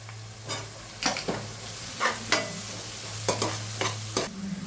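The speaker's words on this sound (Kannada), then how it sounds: "ಮೆಂತ್ಯ ಸೊಪ್ಪು ಅದ್ರ ಜೊತೆಗೆ ಹಾಕ್ತೀನಿ, ಯಾಕಂದರೆ ಚೆನ್ನಾಗಿ ಫ್ರೈ ಆಗಬೇಕು ಮೆಂತ್ಯ ಸೊಪ್ಪು." Sliced onions and fenugreek leaves fry in a pan under a soft background sizzle, broken by repeated loud spatula scrapes and stirring clatters at an irregular rhythm.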